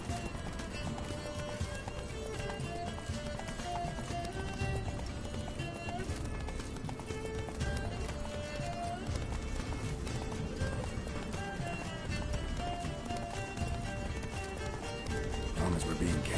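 Roach the horse galloping in a video game, rapid steady hoofbeats running throughout under game music and spoken dialogue.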